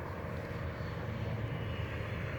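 Steady high buzzing drone of a model airplane engine held under throttle, loud and continuous without pauses, no voices over it.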